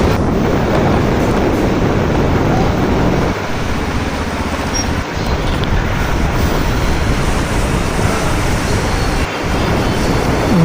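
Big ocean waves roll in at Uran beach as a constant loud roar of surf mixed with heavy wind buffeting the microphone, with no voices.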